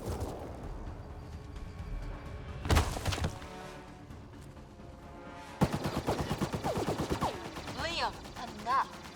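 Gunfire in the sci-fi shooter Mass Effect Andromeda: sharp bursts of rapid shots, one cluster early and a longer run of repeated cracks later, mixed with thuds, effects and a voice talking in between.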